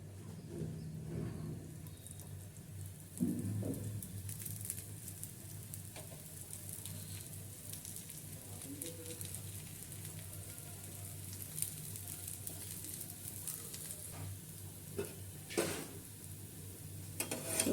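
Dosa batter frying in a mix of white oil and ghee on a pan, giving a steady soft sizzle throughout with a few light clinks of utensil against metal.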